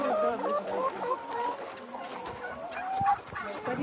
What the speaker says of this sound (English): Let's go see some chickens.